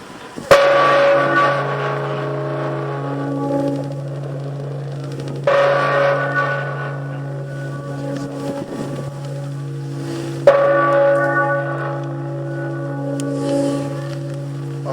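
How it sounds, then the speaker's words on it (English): Bells of peace ring at 11 o'clock at a Montclair Veterans Day tribute, three loud resonant strikes spaced about five seconds apart, each leaving a long humming decay. "we're going to ring the bells"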